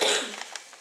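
A girl gives a single short, sharp cough up close, followed by a faint breathy tail.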